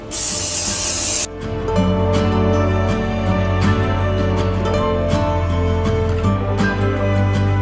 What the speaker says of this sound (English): I'm gonna spray some vegetable oil down here.